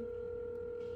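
A phone dials out to call someone back, a brief steady pair of touch-tone beeps sounding alone and fairly quiet for about a second.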